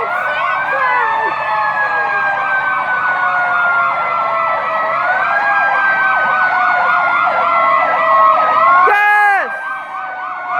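Fire truck siren wailing loudly and close at a holiday Santa parade, a continuous rising and falling wail that ends with a sharp electronic yelp near the finish, with voices faintly underneath.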